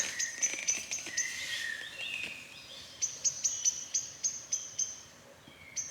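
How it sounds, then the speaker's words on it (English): Repeated bright bird chirps and tweets come outdoors from a moderate distance, in short bursts over a quiet, hissy background. "Can you hear them birds? Birds are going crazy."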